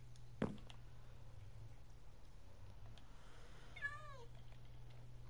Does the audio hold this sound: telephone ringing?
no